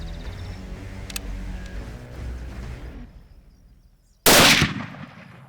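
A single loud, close gunshot bursts out in a World War II video game set in Argentina, following a stretch of low rumbling battle ambience and a short quiet gap.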